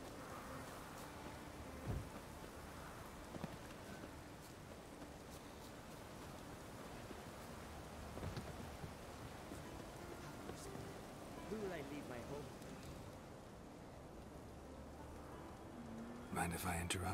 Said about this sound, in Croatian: Ovdje non stop pada kiša.